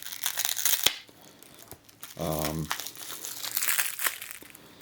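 Plastic packaging crinkles and tears while Bakugan toys are unboxed, with close, busy rustling throughout, a short hum partway through and a person speaking softly in between.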